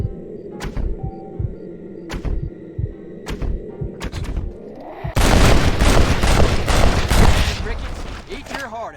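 Gunfire in the Western game Red Dead Redemption: several sharp, loud shots ring out at irregular intervals over a low engine-like rumble, then a dense burst of rapid fusillade with heavy impacts fills the second half, with a little talk mixed in.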